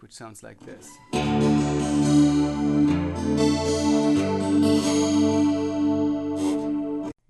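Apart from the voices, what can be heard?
chorus effect on Trace Acoustic TA200 amp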